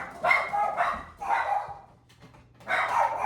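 A dog barks in three loud bursts close by, with a short quiet gap before the last volley.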